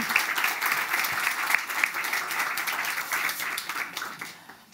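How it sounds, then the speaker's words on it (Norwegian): Steady applause from an audience at a seminar for teachers, dense clapping that holds for several seconds and tapers slightly at the end. "Synes jeg vi skal ta en applaus."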